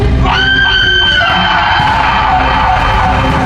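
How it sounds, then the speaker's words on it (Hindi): A loud, drawn-out scream in a dark-forest horror tale as a man's face twists into a monster, rising sharply and sustained for about a second before trailing into a dense, reverberant roar. "एक ऐसी चीख जिसने जंगल को हिला दिया"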